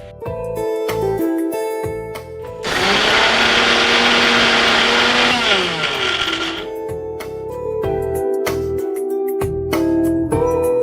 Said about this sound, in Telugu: ఈలోపు మనం మిక్సీ పట్టేసుకుందాం.